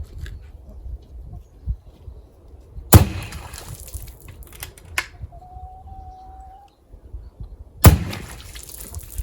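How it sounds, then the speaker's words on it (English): Two sharp, loud reports spaced about five seconds apart from a .22 Wildcat MK3 air rifle firing into a water bucket roughly five feet from the muzzle, each with a brief splash and tail, amid quiet background. "I'm going to take 2 shots into this bucket, and we're going to see how that expands"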